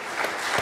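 Brief burst of audience applause in a church hall, a short dense patter of clapping from a crowd.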